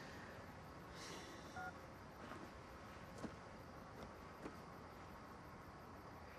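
Faint telephone dialing tones sound in a roadside scene after a car breakdown on a highway, a few short separate beeps spaced about a second apart over a low steady background hiss.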